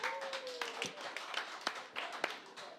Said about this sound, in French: Ça applaudit moins fort que tantôt